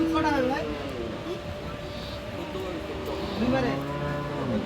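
A Friesian dairy cow at a cattle market lows several times, long drawn moos close by, with people talking and market noise around.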